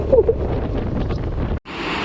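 A steady, broad rushing roar of Kra-ang Waterfall in Nakhon Nayok, falling from a steep cliff, briefly cutting out before resuming just as loud.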